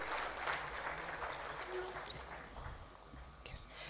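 Faint, distant applause at a bank's international trade seminar, a soft broadband patter of clapping that thins slightly toward the end, with no clear voices over it.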